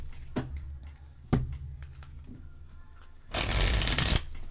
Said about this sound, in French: On va faire du tirage à 3 cartes aujourd'hui.